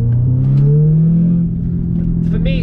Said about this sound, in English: I like the noise of my exhaust, as you just heard now.